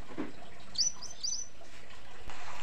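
A scarlet minivet, held in the hand, gives a few short, high-pitched chirps close by, with quiet background noise and a faint handling sound.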